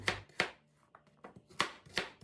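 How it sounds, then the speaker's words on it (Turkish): A knife cuts two medium potatoes into rough cubes on a board, five or six sharp, close chops spaced irregularly with quiet gaps between them. "Patatesleri şöyle gelişi güzel küp küp doğruyorum."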